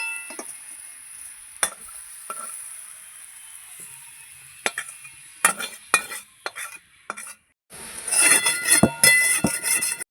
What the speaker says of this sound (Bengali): গাজরটা ভালো করে ভেজে নেব